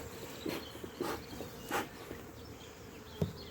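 Bees buzz steadily around two backyard hives topped with an extra super box, a continuous outdoor hum with several louder passes as individual insects fly close by, no voices.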